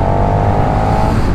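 A KTM 1290 Superduke R motorcycle, a 2022 model ridden two-up on the road, accelerates in a loud, close, steady engine roar.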